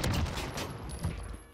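A short, loud burst of MP5 submachine gun fire in Modern Warfare, made of a quick cluster of close shots that fades out within a second or two.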